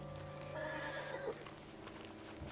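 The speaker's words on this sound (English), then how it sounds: "What's wrong with this horse?" A horse in the video game Red Dead Redemption 2 gives a clear neigh lasting under a second, with a few soft hoof clops and quiet background ambience around it.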